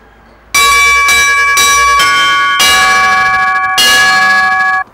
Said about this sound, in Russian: Здесь большое хозяйство, 8 колоколов.